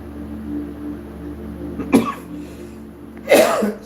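Two separate harsh coughs from people, the second louder and longer, over a low steady hum of room background.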